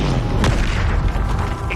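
A Bombarda spell goes off in a Hogwarts video game as a deep, heavy boom with a sharp burst near the start and a rumbling tail, loud and close, with no talking.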